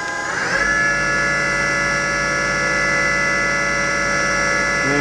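A 1998 Hardinge VMC-1000 CNC vertical machining center spindle spins up and holds a loud, steady high-pitched whine with a constant electrical hum beneath, rising in pitch at the start and then running evenly throughout.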